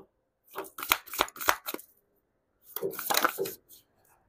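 Tarot cards shuffled by hand in two separate bursts of soft, quick riffling and slapping, close and fairly quiet, with a pause between them.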